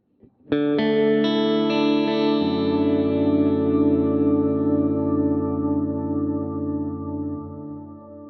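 A guitar played through a Headrush unit with shimmer reverb set one octave up rings out in a loud chord that swells with bright, high octave layers and sustains for several seconds, slowly fading with no voices.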